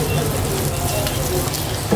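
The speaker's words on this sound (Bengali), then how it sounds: "ঘিয়ের সাথে ভালোভাবে ভেজে নিব।" Raisins and shredded coconut frying in ghee in a pan over low heat for Eid semai sweets, giving a steady close crackling sizzle that runs unbroken throughout.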